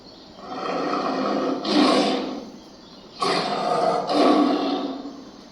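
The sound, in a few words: big cat roaring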